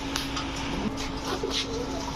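Pet pigeons cooing softly at close range, low murmuring calls repeating over a steady background hum.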